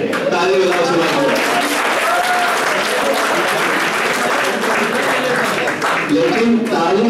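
An audience at a motivational lecture bursts into sustained, dense applause that stays loud throughout while a voice talks over it.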